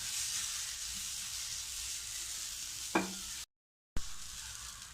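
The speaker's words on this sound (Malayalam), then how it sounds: "ഞാനിതിട്ട് 3 മിനിറ്റ് റോസ്റ്റ് ചെയ്ത് എടുക്കുകയാണിത്." Steady dry hiss of ground ration rice being dry-roasted and stirred in a hot pan, with a brief scrape of a spatula near the middle and a short cut of silence.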